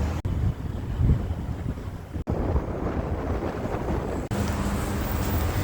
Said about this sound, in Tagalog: Medyo mahangin pala ngayon, hindi siya ganong kainit.